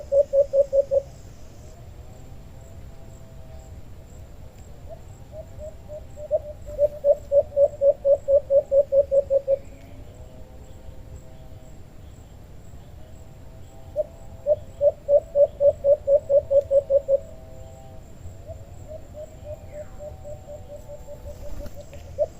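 Repeated bursts of rapid, high trilling bird calls come in three separate rounds over a low, quiet background hum.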